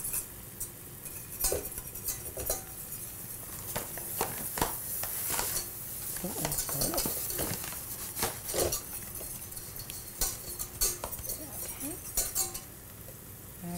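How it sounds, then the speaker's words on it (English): Metal whisk clinking against a pot while flour is stirred into fat for a classic roux, a steady close scraping and tapping rhythm throughout with bursts of sharper clinks. "I'm gonna grab a whisk can go ahead and add that flour"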